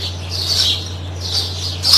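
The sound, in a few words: sparrows chirping in a vine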